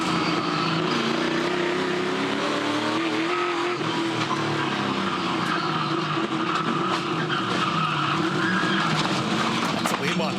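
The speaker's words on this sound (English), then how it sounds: "that right front is all locked up" Onboard a Trans Am Series race car in Adelaide, the right front tyre locks up under braking, a continuous harsh skid and squeal mixed with loud engine roar, while commentators talk over it.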